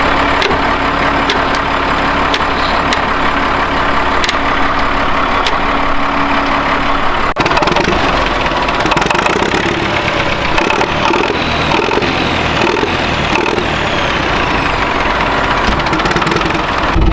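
An old tractor's engine idles steadily and loud, with a continuous low rumble and vibration running through the whole stretch and a slight change in tone partway through.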